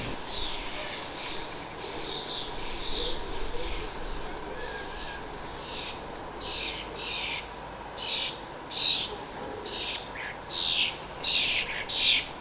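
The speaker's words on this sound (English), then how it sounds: "As one by one the noisy neighbours arrive, we can see some pale grey-brown starlings in the group." A flock of starlings, including young birds, gathered around food, giving repeated bursts of chattering, whistling calls that grow louder and busier toward the end over steady outdoor background noise.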